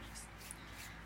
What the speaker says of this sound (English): Excuse my birds, I've got some budgies and they're very loud.